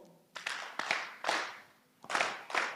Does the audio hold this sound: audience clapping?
yes